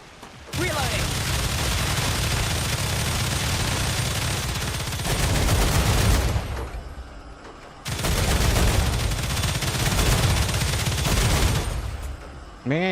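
Enemy gunfire in the Star Rupture video game: two long, loud, sustained bursts of rapid automatic fire separated by a brief pause, with a short burst starting again at the very end.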